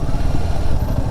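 A Royal Enfield Himalayan 450 motorcycle engine runs in a low, rough, steady drone, loud and close, consistent with engine braking on a descent.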